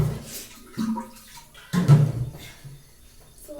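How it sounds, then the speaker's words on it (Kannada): Water is poured into a cooking pot while making a tomato and bean sambar, heard as a few short splashy gushes separated by pauses, close and moderately loud. "ನೀರನ್ನ ಹಾಕೊಳ್ತಾ ಇದ್ದೀನಿ ಸ್ವಲ್ಪ ಜಾಸ್ತಿ ಮಾಡ್ತೀನಿ"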